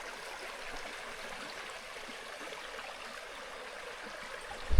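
River water flows steadily at a deep spot near the bank, a soft continuous rushing wash that stays even throughout, with a brief low thump at the very end.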